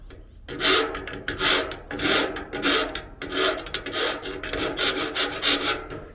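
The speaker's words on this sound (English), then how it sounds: "So just a matter of filing out to get the right size hole to get that hose connector through." A flat file rasping metal lugs on a Pathfinder PFM40 burner to widen a hose connector hole, steady rhythmic push strokes repeated about ten times, close and alone.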